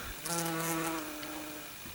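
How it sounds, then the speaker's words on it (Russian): A wasp buzzes nearby with a steady droning hum that rises, holds for about a second, then fades slightly. "Это оса какая-то забрела."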